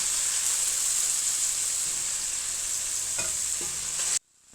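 Meat for an Irish stew browns in a hot pan with a steady, loud broadband sizzle, a few clicks of a utensil near the end before it cuts off abruptly.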